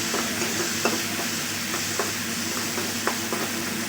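Okra frying with mustard seeds in a pan gives a steady, even sizzle with occasional small pops and stirring scrapes, heard up close and alone.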